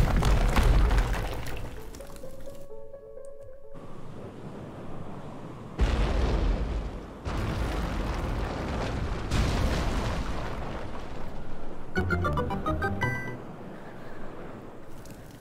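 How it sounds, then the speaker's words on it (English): Pillar destroyed in the video game Zelda: Link's Awakening, with loud crashing booms and rumbling bursts breaking through game music, followed by brighter chiming effects. "Pick up the ball, destroy that last pillar."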